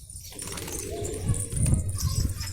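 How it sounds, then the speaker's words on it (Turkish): Pigeons cooing nearby in a loft, low throaty coos repeating under a rustle of movement and brief wing sounds, with quiet talk in the background. "Bu güvercin bize Sinan Uğur kardeşimden hediye geldi."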